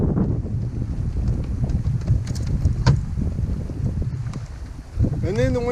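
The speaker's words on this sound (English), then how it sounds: "the wind's blowing pretty hard" Strong wind on Lake Conroe during a fishing outing, a heavy low rumble of gusts battering the microphone throughout, with someone talking over the blustery noise.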